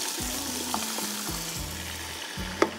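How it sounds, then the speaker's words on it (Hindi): Mutton sizzles and fries in a pan while being stirred, a steady close crackling hiss broken by a few stirring clinks, with a low hum beneath. "मैं उस वक्त से गोश्त को मैंने अच्छी तरह से भून लिया है"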